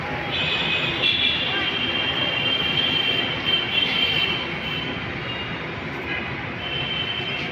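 A metro rail train runs along an elevated line in Mirpur 10, Dhaka, giving a steady, fairly loud rumble with a sustained high metallic whine that rises and falls slightly, mixed with street noise.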